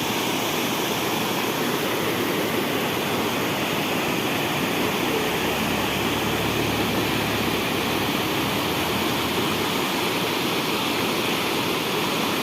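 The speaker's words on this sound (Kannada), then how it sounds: "ನಿನ್ನೆ ಹರಿತಾನೆ ಇರಲಿಲ್ಲ ನೀರು ಇವತ್ತಾಲ ಇಷ್ಟು ಹೋಗ್ತಿದೆ" Waterfall in full flow after a day of rising water, a loud, steady, unbroken roar of rushing water close by, with no talking.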